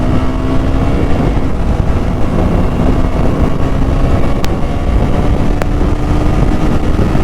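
KTM RC 200 motorcycle with a DOHC engine ridden at speed, a loud continuous engine drone mixed with heavy wind roar, steady throughout with a faint whine sustained underneath.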